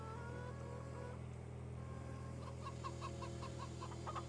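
Chickens cluck in Farming Simulator 22, a faint series of short, regular clucks over a steady low engine-like hum.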